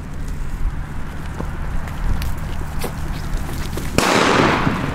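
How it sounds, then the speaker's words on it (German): A Leslie Celebration Cracker firecracker set off outdoors on New Year's Eve. Scattered small knocks and rustles give way to a sudden loud, hissing, crackling burst that carries on to the end. "Und zu guter Letzt haben wir hier noch den Celebration Cracker"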